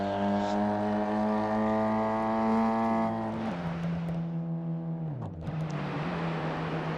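BMW M2 engine at the Nurburgring 4 Hour, climbing uphill with a steady loud harmonic drone that holds, drops pitch with an upshift, then dips briefly before pulling again, close and continuous without talk.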